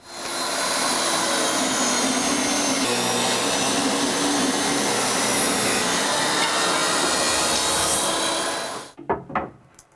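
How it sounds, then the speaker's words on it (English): A table saw rips through a cabinet filler strip wrapped in painter's tape, the blade set just above the stock; a loud, steady broadband cut runs for about nine seconds, then the blade spins down with a few knocks. "make sure the finish doesn't chip up when I run it through the table saw"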